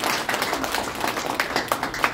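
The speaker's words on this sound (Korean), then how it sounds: "힘찬 박수 부탁드리겠습니다." Audience applause at a formal Korean ceremony introducing dignitaries, a steady patter of many hands clapping, moderately close and continuous, with faint voices underneath.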